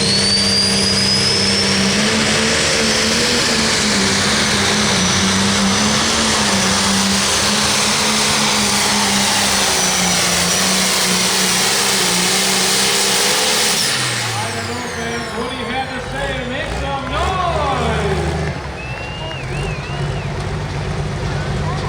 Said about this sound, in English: here comes Nick Gallitz with his tractor called Running in the Red.